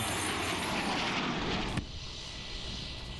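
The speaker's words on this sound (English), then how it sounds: "There's our plane." A small propeller airplane engine drones loudly and steadily on a safari flight in Tanzania, then drops abruptly to a quieter, more distant hum partway through.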